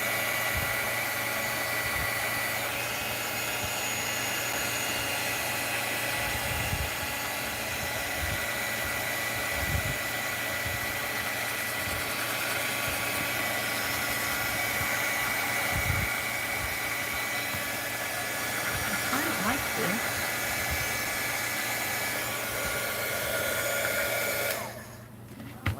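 A handheld heat tool blows a steady, loud rushing hiss over melted crayon on a cube box, running unbroken with a few faint knocks beneath before cutting off abruptly at the end.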